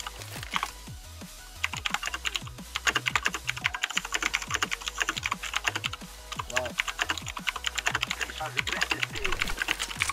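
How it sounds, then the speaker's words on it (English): Steady, fast clacking of a computer keyboard during a CS:GO match, with dense keystrokes continuing throughout, close and fairly loud, over faint game sounds and a bit of talk. "I'm typing to him."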